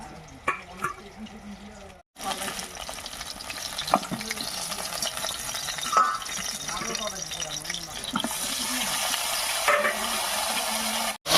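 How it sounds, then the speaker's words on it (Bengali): Eggplant sizzles and crackles in hot oil previously used for frying fish, at a steady, moderate level, with occasional stirring scrapes and a brief pause early on. "এবারে মাছ ভাজার এই তেলের মধ্যে বেগুনটাও ভালো করে ভেজে নেব"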